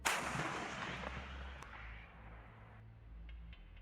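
A high-explosive tank shell detonates in the Minecraft MCHeli-Overdrive mod, one sharp blast at the start that rumbles and fades over a few seconds, fairly faint, with no voices.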